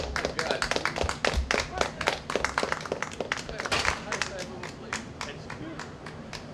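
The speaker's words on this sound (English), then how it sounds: "Look, we're clapping for you." A small cabaret audience claps and cheers in quick, uneven bursts at close range, with a voice talking over the applause.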